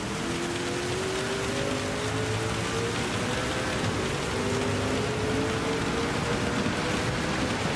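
Steady rain during the 24 Hours of Le Mans race in Gran Turismo 7, a dense, even hiss of falling drops that runs unbroken, with a faint engine tone underneath.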